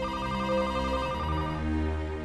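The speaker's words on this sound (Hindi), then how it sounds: "ये घर पे कोई फोन क्यों नहीं उठा रहा है?" A telephone rings continuously at home with a steady electronic tone pattern, loud and close, with no voices over it.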